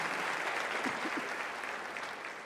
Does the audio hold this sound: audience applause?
yes